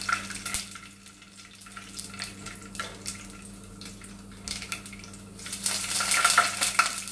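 Nigella seeds hit hot oil alongside red chilies and curry leaves while tomato curry is made, giving a steady fine crackle and sizzle with scraping stirs, growing louder toward the end, no voices.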